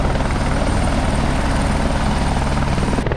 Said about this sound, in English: At the moment there is a helicopter.